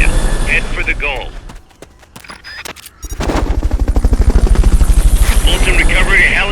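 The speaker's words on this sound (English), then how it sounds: "Fulton recovery helicopter is complete." Rotor chop of the Fulton recovery helicopter in the Xbox game Metal Gear Solid Peace Walker, a loud steady thumping that builds after a burst of gunfire-like hits, with game voices and effects around it.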